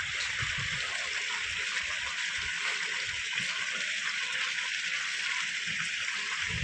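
Water pours steadily from a cow-mouth spout at a stepwell in Shantivan, Dholka. A constant rushing, splashing flow plays up close without pause.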